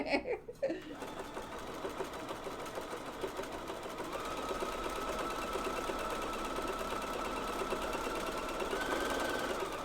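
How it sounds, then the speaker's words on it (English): A sewing machine stitches women's underwear, starting after a brief noisy moment and settling into a fast, even mechanical whir that picks up speed and continues steadily to the end. "I can sew faster with this stitch, which is nice."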